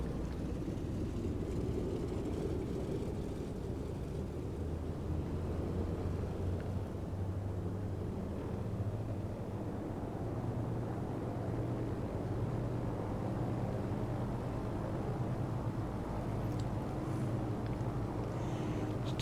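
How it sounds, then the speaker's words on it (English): Twin radial engines of a C-46 Commando in Microsoft Flight Simulator run up after a cold start, a steady, dense droning roar holding at even loudness throughout with no talk. "Just run the engines up quickly."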